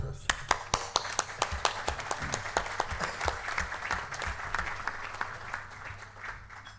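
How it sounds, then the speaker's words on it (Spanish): Audience claps to welcome the guest speakers at a forum on Uruguay's development, with crisp individual hand claps dense at first and thinning out over several seconds while voices murmur underneath. "les doy la bienvenida y un cálido aplauso para ellos"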